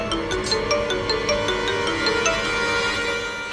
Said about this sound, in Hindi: ये रवि क्यों फोन कर रहा है मुझे?